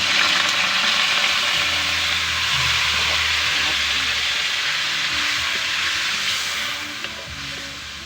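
Chicken liver and gizzard fry loudly in a pan for miki guisado, giving a dense, steady hiss that eases slightly toward the end, under low music.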